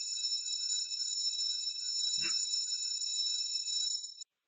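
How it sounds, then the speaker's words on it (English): A bell rung to start a class, held as a high sustained electronic ringing tone with a small knock partway through, then cut off abruptly at the end. "I am going to ring the bell to start the class."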